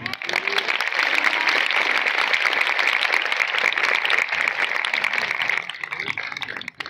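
An audience at a poetry recitation claps loudly and continuously, a dense wash of applause that fades slightly near the end.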